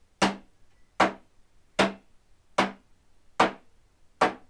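A percussion instrument struck with a hammer in a primary school music lesson: six sharp, evenly spaced wooden knocks keep a steady pulse, close and fairly quiet, with no voices between them.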